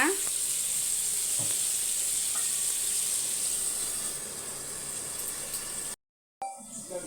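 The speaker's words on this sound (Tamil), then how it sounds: "இப்போ பார்த்தீங்கன்னா மீன் குழம்பு ஒரு பத்து நிமிஷமாக நல்லா கொதித்து வருது" Sankara fish curry bubbling in a pan, a constant dense sizzling hiss with faint popping, softening slightly toward the end before a brief cut to silence and a short return.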